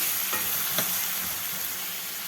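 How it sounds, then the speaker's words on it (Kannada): Steady, loud sizzling of green peas fills the pan, with a couple of scraping stirs breaking the hiss of frying. "ಸ್ವಲ್ಪ ಈ ಹಸಿ ಬಟಾಣಿ ಸ್ವಲ್ಪ ಬೇಯಲಿ"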